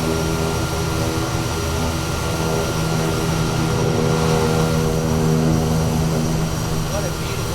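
The propeller engine of a Daher Kodiak 100 in Microsoft Flight Simulator hums loudly in a steady, even drone with a strong tonal whine, heard near and continuous on the ground.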